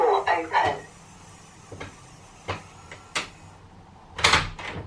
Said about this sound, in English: the door is now open and ready to use